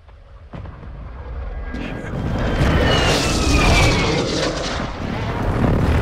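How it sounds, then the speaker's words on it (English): A friendly airstrike lands during a Call of Duty: Modern Warfare II match: a sharp crack opens into a long, swelling roar of rumbling blasts and debris, loud and sustained for several seconds. "Friendly airstrike on the way."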